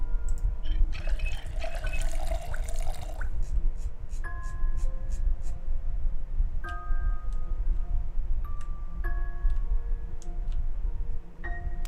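A gardening spray can waters crops in Project Zomboid, a burst of hissing spray followed by repeated soft, bright ticking chimes from the game interface.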